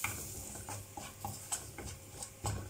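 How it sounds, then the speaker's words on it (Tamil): Spices for rasam roasting in a pan on the stove, faint scattered ticks and soft scraping stirs with a low background hum, quiet and close, no one speaking. "எல்லாம் போட்டு எல்லாம் வறுக்கணும்."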